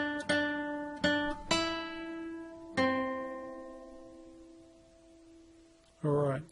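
Plucked guitar notes pick out the opening of the nursery tune Jack and Jill on the second and first strings, several picked notes ringing and decaying, ending in a brief burst of another sound.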